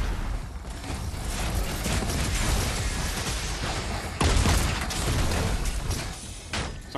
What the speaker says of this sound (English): Someone shooting us.